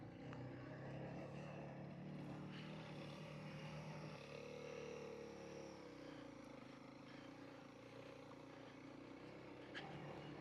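Truck crawling in first gear through muddy ruts near the US-Mexico border, a steady low engine drone with faint rumbling and no talk.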